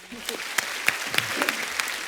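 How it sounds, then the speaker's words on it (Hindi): A studio audience on a televised comedy show claps for a film actor, a short, dense burst of applause with a few sharper individual claps standing out, while a voice talks faintly beneath it. "इनके लिए जोरदार ताली हो जाए यार।"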